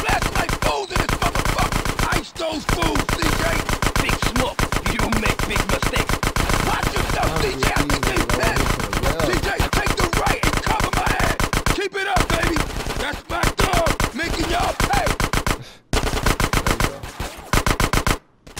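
Rapid automatic gunfire from a street shootout in the video game GTA San Andreas, loud and nearly continuous with dense bursts, a few brief pauses, and shouted voices mixed in.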